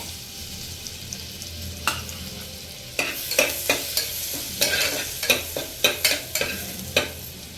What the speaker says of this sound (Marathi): लगेचच आपल्याला लसूण टाकून घ्यायचंय